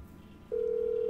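In GTA 5 Online, a phone dials a contact. A steady, clear ringing tone starts halfway through and holds over a low background hum.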